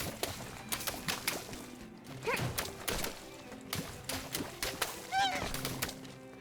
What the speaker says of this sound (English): I heard the goose. Not goose. Swan.